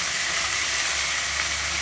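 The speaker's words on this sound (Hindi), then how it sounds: "अभी मैं इसमें टमाटर डाल रही हूँ" Tomatoes hitting hot ginger-garlic masala in a pan for a taro curry, giving a steady, close, broadband sizzle that runs evenly throughout with no talking.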